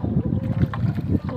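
Large boat on a river, a loud low rumbling drone with wind buffeting the microphone throughout a brief moment, no clear speech.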